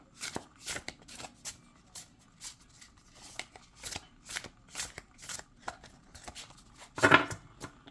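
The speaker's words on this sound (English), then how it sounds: "So beautiful shuffling, definitely beautiful shuffling." Hands shuffle a Serpent and the Peacock tarot deck with quick riffling bursts and soft card slaps, close and fairly quiet, repeating in an uneven rhythm with one sharper, louder shuffle near the end.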